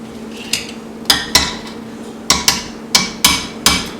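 Repeated sharp clanks and scrapes of a potato masher striking the bottom of a metal pot of hot food, irregular strokes close by with a steady low hum behind.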